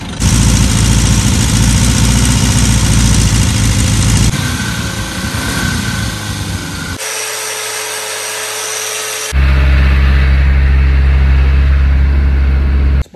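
A car engine idles loudly and steadily, recorded in several cut segments whose tone and level shift between takes, with a brief quieter section in the middle.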